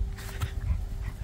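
Dog during a tug of war, brief soft whimpering and panting sounds close by over a short moment, with low scuffling noise.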